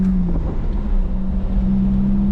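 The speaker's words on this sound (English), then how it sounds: "we're gonna do a quick warm-up lap" A BMW E46 on a race track idles and rolls through a warm-up lap, a steady low engine drone that is close and continuous, with no talk over it.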